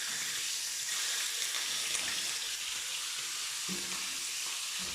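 Bacon fries in far too much oil, giving a dense, continuous hissing sizzle that stays loud and even throughout with no voices.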